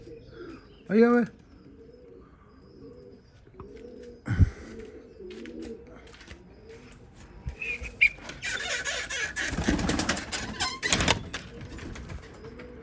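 A young bird chick gives a few coos and chirps, loudest near the start, while someone speaks briefly and handling noises and rustling build toward the end.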